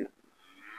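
A Belgian Blue cow gives a short, faint moo close by, its low voice rising and fading over under a second.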